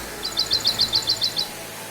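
A bird gives a rapid run of about nine high, clear chirps in an even rhythm, close and distinct against a quiet background.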